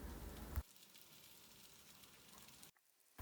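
Beans coated in corn flour fry in an oiled pan with a loud, crackling sizzle for the first half-second, then a softer, steady sizzle that cuts out briefly near the end.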